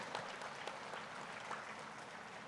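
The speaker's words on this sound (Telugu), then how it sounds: "ఆ మహాశక్తికి ఒకసారి మనం గట్టిగా చప్పట్లు కొట్టుకుంటూ," An audience at a World Meditation Day gathering applauds for Patriji, a steady wash of many hands clapping heard faintly and at a distance, with a few sharper individual claps standing out.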